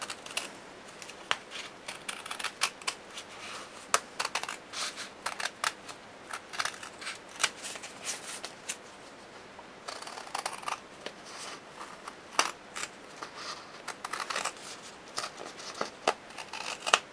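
Scissors cut paper for a handmade mini album in quiet, close, irregular snips and crisp rustles. The bursts are scattered across the whole stretch with no talking.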